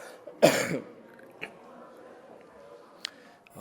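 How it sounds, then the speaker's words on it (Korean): A single rough cough from a person recovering from COVID rings out near the start, followed by quiet room noise and a few faint clicks. "기침이 간간히 나는데 이거는 전혀 전염되는 기침이 아닙니다"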